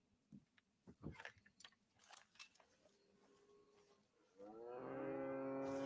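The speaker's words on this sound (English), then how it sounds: "Florida cracker cow" A Florida cracker cow in a video game lets out one long, drawn-out moo near the end, preceded by scattered soft crunching and chewing noises; no one speaks.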